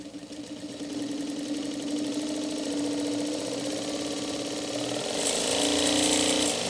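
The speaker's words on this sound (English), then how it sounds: "as the bobbin is winding, we want to watch and make sure that it's winding evenly" A heavy industrial straight stitch sewing machine winds a bobbin with a steady, close motor whir and rapid mechanical ticking that holds an even pitch, growing a little brighter and louder near the end; no one speaks.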